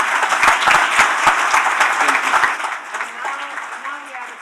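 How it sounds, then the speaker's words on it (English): Audience applause at the end of a panel session at an Italian AI conference plenary, dense clapping for the first half before thinning out into scattered claps with voices talking underneath. "please give an applause to them"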